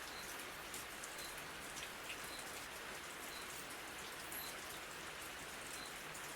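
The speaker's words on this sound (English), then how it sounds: "I will continue with Jungle Rain" Steady jungle rain falls alone, a dense, even hiss of drops on leaves and surfaces with no pauses, heard quietly and close throughout.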